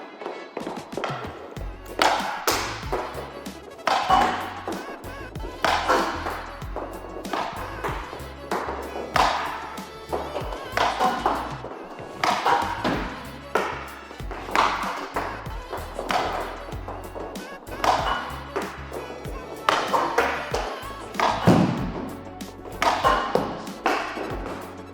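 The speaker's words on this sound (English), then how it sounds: "first shots with the Vizion stick" Repeated hockey shots with a CCM Vizion stick land as sharp thuds and cracks, each followed by a puck rattle, in a steady series of strikes close by, with no talk.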